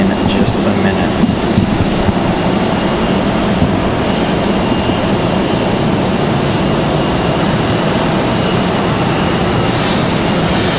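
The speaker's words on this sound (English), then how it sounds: "3 hours and 32 minutes of flight time for the 737-9. So that one gonna arrive in just a minute." Boeing 737-9 jet arriving at RDU airport, a continuous loud engine roar and rushing noise, holding steady throughout with someone talking under it.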